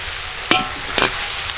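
Pork frying in a pan over an outdoor cooking fire, with two distinct scraping stirs cutting through a steady, close sizzle of rendered fat; no voices.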